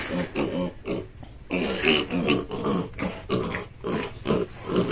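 A pig of about 75 to 80 kilos grunts and snorts in repeated bursts, close by and fairly loud, with short pauses between the noises.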